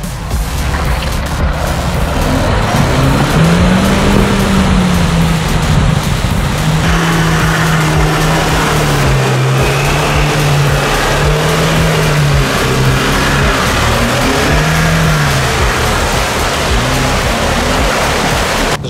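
A Nissan Patrol off-road SUV engine revs hard while pushing through mud, a loud, sustained mid-range roar whose pitch climbs and falls in repeated surges across the whole stretch, with no talk.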